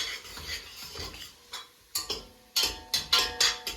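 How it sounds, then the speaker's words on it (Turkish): Mushrooms sautéing in oil while a wooden spoon stirs them in a pan, giving a series of sharp knocks and scrapes that quicken toward the end, close by, over a faint background. "Mantarlarımızı güzel bir şekilde e, yağ ile buluşturuyoruz"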